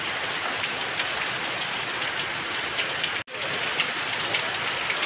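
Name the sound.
heavy rain falling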